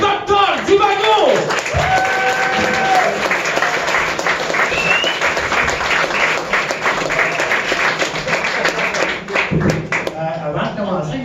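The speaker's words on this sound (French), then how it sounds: "on applaudit très très fort pour Dr. Divago!" A comedy club audience in Montréal breaks into loud, sustained applause for a comedian, dense clapping filling the room while a host's voice carries over it.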